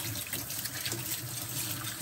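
Tap water runs steadily into a sink while a juicer is cleaned by hand, a continuous hissing splash that stays even and close with no talking.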